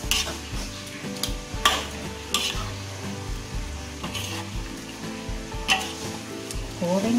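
Fried catfish with eggplant, rimbang berries and jengkol is stirred into balado chili sauce in a pan: a steady sizzle under repeated scraping and clacking of the spatula against the metal, irregular and close.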